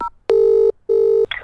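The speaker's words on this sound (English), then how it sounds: "I'll just get him up on the phone." A telephone being dialed for a call, with two loud, steady tone bursts separated by a short gap, followed by a brief faint click.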